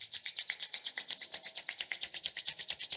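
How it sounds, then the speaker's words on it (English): Palms rubbed briskly together during a guided yoga and breathing session, a steady rapid swishing friction rhythm of about eight strokes per second, close and alone without talk. "Start rubbing your palms."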